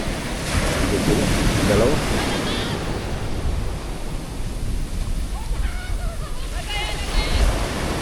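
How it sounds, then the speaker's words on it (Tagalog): Sea waves surge and crash near a house on the shore, a continuous loud wash of surf with wind noise and a brief voice over it. "Lakas humigo pala talaga ng dagat dito, no?"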